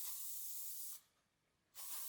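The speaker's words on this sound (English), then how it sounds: "And then we take the hairspray." Hairspray hisses onto hair from a distance in two long, steady bursts separated by a short pause, the second burst beginning just before the end.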